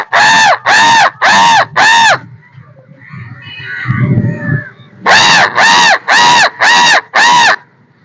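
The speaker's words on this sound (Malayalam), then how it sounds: "ശബ്ദം ഉപയോഗിച്ച് കാക്കകളെ വരുത്തുകയാണ്" Loud crow caws, a rhythmic run of four, a short rustling pause, then five more caws in the same steady beat.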